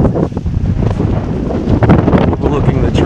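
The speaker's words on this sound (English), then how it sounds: "kind of windy." Gusty wind buffets the microphone high on the Laguna Seca corkscrew overlooking the track during a World Superbike weekend, a steady loud broadband rush lasting throughout.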